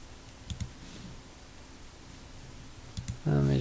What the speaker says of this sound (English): And I'm going to click run.